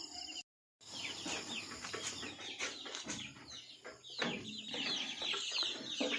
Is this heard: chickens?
yes